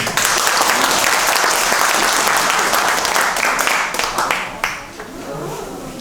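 Audience applause at the end of a lecture, vigorous clapping that holds for about four seconds, then thins and fades out near the end.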